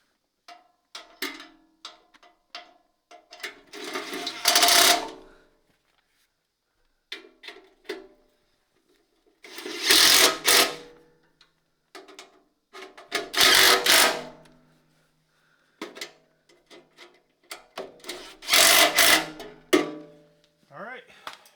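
Four separate bursts of a power driver running 5/16 bolts into freshly drilled and tapped holes on a Kubota tractor, each a short whirring spin with clicks and handling noises in between, fairly close.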